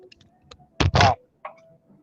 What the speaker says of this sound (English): And the snare drum sounds like this.